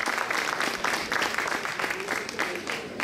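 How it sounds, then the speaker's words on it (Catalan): An audience claps for the adult choir at the 43rd Trobada de Caramelles in Casserres, 2024. The applause is steady and crowd-sized, with individual claps standing out. "un aplaudiment per la coral gran"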